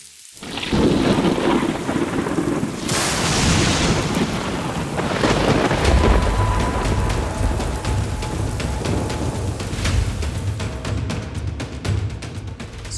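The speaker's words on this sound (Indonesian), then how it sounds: "Sepertinya hujan yang semakin besar bukan menjadi kendala bagi kami untuk terus melempar umpan." Heavy rain drums steadily on a river during a fishing trip in North Kalimantan, with deep thunder rolling and cracking through the downpour, loud and close, no voices.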